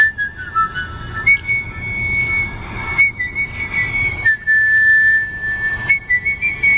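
Tuneful whistling with sustained, sliding high notes over a steady rumbling background, continuing in several phrases with brief pauses.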